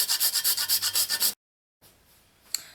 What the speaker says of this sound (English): So I'm gonna start by grating in my nutmeg